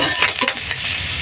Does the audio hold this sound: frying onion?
yes